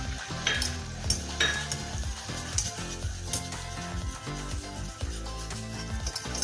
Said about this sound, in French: j'ai fait fondre 40 g de beurre, dans lequel je vais rajouter 40 g de farine pour former un roux